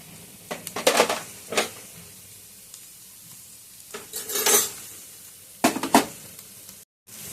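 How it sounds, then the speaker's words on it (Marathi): Fried peanuts go into a samosa filling in a pan, with a few clattering pours and stirs against the metal over a faint sizzle and quiet pauses between. "तळलेले शेंगदाणे होते ते पण टाकायचे आपल्याला"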